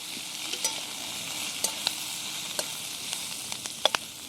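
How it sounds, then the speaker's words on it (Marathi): Onion frying in oil in a pan, cooking down until reddish brown for a prawn dish, with a steady close sizzle broken by scattered sharp pops and spatula scrapes, no talk. "तेल टाकून चांगला लाल जर कांदा आधी भाजते"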